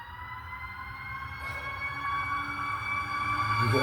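Emergency sirens wail with rising and falling tones, growing louder as the vehicle approaches, alongside a low engine rumble and no talking.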